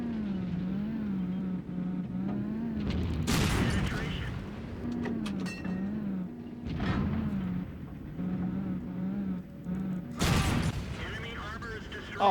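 Heavy tank gunfire in World of Tanks booms in two sharp, loud blasts several seconds apart over a steady engine rumble, with a player talking throughout.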